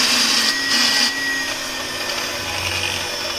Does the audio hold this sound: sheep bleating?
no